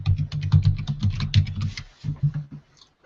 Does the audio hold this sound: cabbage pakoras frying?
no